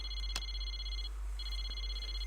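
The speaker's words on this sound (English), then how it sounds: "As I toss and turn in bed, my cell phone rings without warning." Cell phone ringing in Persona 4 Arena, a high electronic warbling ring in two bursts separated by a brief pause, clear over a low steady hum.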